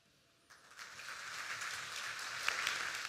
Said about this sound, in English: Let's give him another round of applause for sharing his insights.